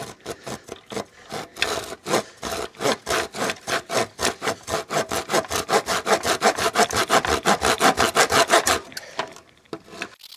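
Rhythmic back-and-forth strokes of a handsaw cutting wooden planter boards, speeding up into a steady, even rasp before slowing at the end.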